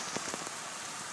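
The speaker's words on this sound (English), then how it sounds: "Pouring. Pouring rain. Like a shower. Like a humongous shower." Pouring rain heard as a dense, steady wash of drops hitting surfaces, loud and continuous, with a few sharper splashes near the start and no voices.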